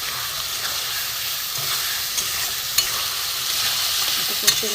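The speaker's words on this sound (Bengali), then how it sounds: "একটু অল্প একটু জল দিয়ে মশলাটা একটু আমি কষিয়ে নিচ্ছি" A spice paste of chili powder, cumin and garam masala, loosened with a little water, sizzles steadily in a pan for a vegetable egg curry. A spoon occasionally scrapes and stirs through the constant close frying hiss.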